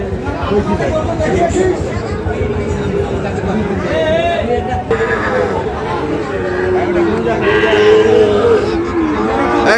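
Sahiwal cattle mooing at a busy livestock market, low drawn-out calls rising over dense crowd chatter and bargaining voices throughout.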